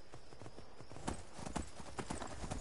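Horse hooves clip-clop in the video game Skyrim, a quick irregular run of close, fairly quiet hoofbeats over a soft ambient bed, with no talking.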